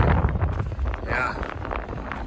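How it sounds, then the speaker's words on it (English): Gusty wind along Route 66 buffets the microphone with low rumbling bursts, while a voice talks over it. "Yeah, it's windy out here."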